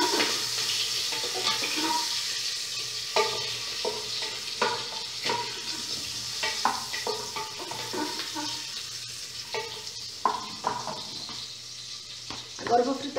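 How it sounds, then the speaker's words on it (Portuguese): Sausage and bacon fry in a little oil in a pot, a soft, quiet sizzle broken by occasional clatters and scrapes from stirring, with some speech over it. "Primeiro, eu fritei a linguiça. E o bacon."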